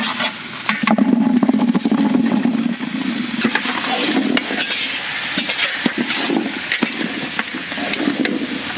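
Onions frying and being stirred in a pan until browned for a village chicken curry, a steady loud sizzle with repeated scraping stir strokes throughout, no voices.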